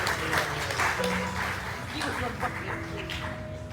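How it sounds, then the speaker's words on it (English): Audience applause for a family at a birthday and wedding celebration, a steady wash of clapping with voices and background chatter mixed throughout. "Come on, give this family a lovely round of applause."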